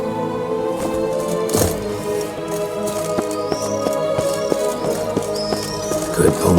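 Roach the horse gallops in The Witcher 3: Blood and Wine, hooves clip-clopping in a steady stream of near, distinct beats over sustained game music.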